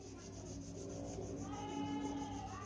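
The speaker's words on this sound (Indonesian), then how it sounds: "melubangin dengan alat manual itu butuh waktu dan kesabaran" A smoking pipe being bored by hand with a simple manual tool gives a continuous close scraping, rasping grind that grows slightly louder and steadier, with no talking.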